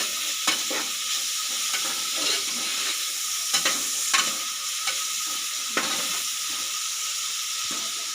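Tomatoes stirring and sizzling in a pan for egg biryani, a steady frying hiss with sharp scraping stirs at irregular moments, close and moderately loud with no talk.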